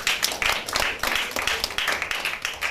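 An audience clapping at a formal event, loud and close, with a steady run of overlapping claps that keeps a rough rhythmic pulse throughout.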